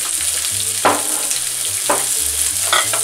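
Broccoli tops and green beans frying in extra virgin olive oil, a continuous close sizzle broken by a few soft stirring scrapes, with a low background hum and no talking.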